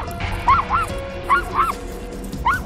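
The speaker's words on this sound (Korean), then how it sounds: "사람이 보이기만 해도 심하게 짖었는데요." A dog that barks aggressively at any person it sees outdoors, giving several sharp, loud barks in uneven bursts close by against a low background rumble.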